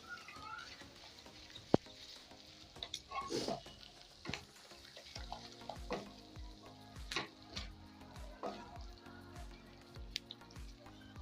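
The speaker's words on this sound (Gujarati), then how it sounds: "હવે મેગી મસાલો અને ગરમ મસાલો બી સરસ રીતના મિક્સ કરી લેશું" Maggi masala and garam masala are stirred into a simmering green chola curry, with soft frying sizzle and bubbling under intermittent scrapes and knocks of a spoon against the pan, fairly quiet and close.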